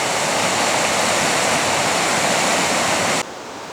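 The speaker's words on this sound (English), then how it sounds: "The river's right here." A river rushes in a steady, loud broadband roar close by at a campground on the Cross River, dropping abruptly to a softer wash near the end.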